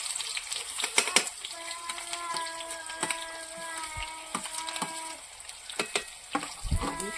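Cumin and onion frying in hot oil, a steady crackling sizzle broken by sharp clicks and knocks of stirring, fairly faint.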